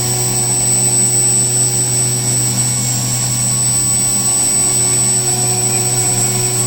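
A milling machine cutting with a quarter-inch three-flute end mill gives a steady, loud, continuous droning whine with harsh chatter, unbroken throughout and without talk.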